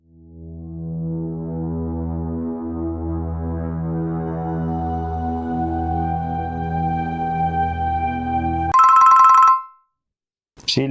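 A phone ringtone of an incoming call plays as a long rising melodic tone, loud and close, ending in a burst of brighter buzzing before a brief silence.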